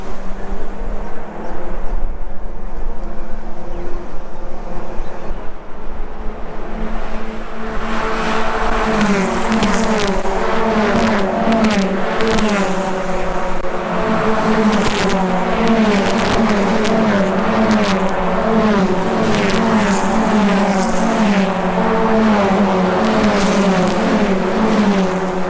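Small Hyundai Excel race cars run a street circuit in Townsville, their engines making a loud, continuous buzzing drone that overlaps and rises and falls as the pack passes close by.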